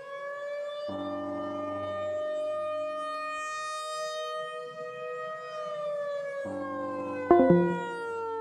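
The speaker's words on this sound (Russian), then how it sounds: "Это колонка, запись сирены." A siren recording played from a speaker in the Roblox game, a steady sustained wailing tone with rich harmonics that drifts slowly in pitch and holds loud for the whole stretch, with a brief clatter near the end.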